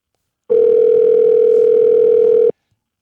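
A single long ringback tone on a phone call sounds loud and steady for about two seconds, then cuts off into silence.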